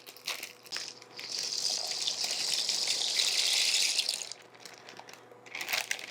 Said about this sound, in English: We're going to add the noodles to our boiling water.